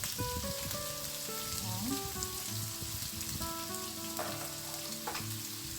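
Ground pork fries in a pan, a steady dense sizzle and crackle with occasional stirring scrapes, close and continuous with no voices.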